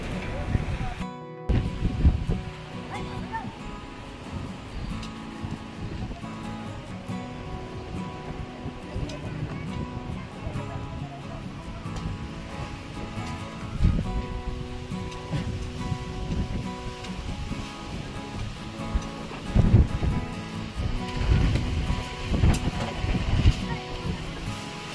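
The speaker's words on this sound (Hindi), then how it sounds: "इतनी जोर हवा चल रही है कि मैं उड़ जाऊंगा यहाँ से" Strong storm wind sweeps through a village ringed by mango trees, a loud, constant roar with heavier gusts and buffeting near the microphone toward the end, while someone talks over it.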